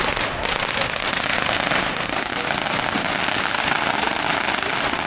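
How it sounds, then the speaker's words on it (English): Chinese New Year fireworks set off in China give a dense, loud barrage of crackling firecracker pops, continuous and close for the whole stretch with no talk. "This is how I'm doing the fireworks here in China."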